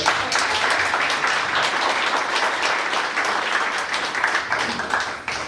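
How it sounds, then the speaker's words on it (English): Audience applause at a mayoral candidate forum, a sustained, even wash of many hands clapping from start to finish, full and close. "I want to have some applause for that."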